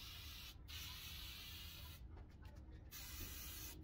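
A rattle can spraying a speckled light coat of paint onto a Miata coil pack part gives a steady close hiss with short gaps as the nozzle is released and pressed again.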